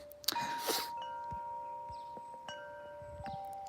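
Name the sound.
Woodstock Chimes of Paradise wind chimes ringing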